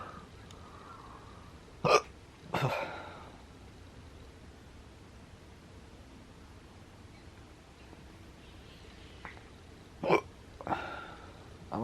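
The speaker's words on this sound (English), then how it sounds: "I hate hiccups." Two pairs of hiccups, one near the start and one near the end, sound sharp and close against a quiet, faintly hissy room.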